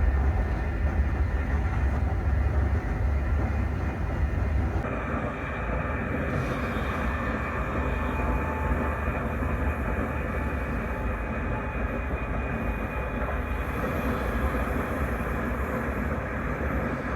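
Steady rumble and rattle inside a sleeper train while travelling in Sweden, a constant moderate drone of rolling wheels with no voices.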